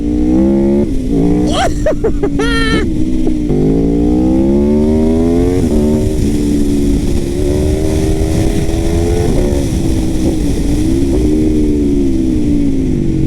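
An Aprilia RSV4 motorcycle rated at 217 hp roars close by, its engine rising in pitch through the gears with shifts and a sustained high-revving howl at speed.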